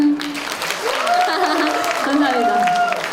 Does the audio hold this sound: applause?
yes